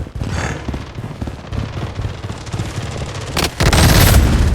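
Heavy enemy gunfire in the Blood Strike video game, dense rapid bursts of automatic shots rattling close and loud throughout, ending in a louder, sustained blast of fire.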